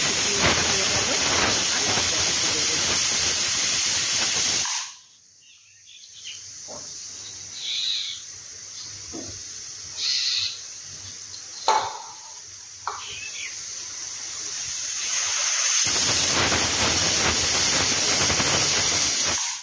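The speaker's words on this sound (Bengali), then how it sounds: "তো সিটিটা উঠে নিক, প্রথম সিটি" A pressure cooker on the stove lets off a loud, steady hiss of escaping steam, cuts out for several seconds with only faint background clatter, then the hissing whistle resumes strongly near the end.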